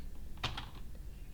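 Short burst of computer keyboard typing, a couple of quick faint keystrokes followed by one more isolated tap, quiet and close with no talking.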